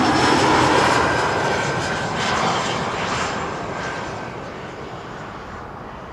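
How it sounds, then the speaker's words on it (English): A Lufthansa airliner lands at Amsterdam Schiphol Airport, its engine roar loud and broad at first, then slowly fading and easing over several seconds with no voices. "Lufthansa 1070 arriving from Southampton is landing next."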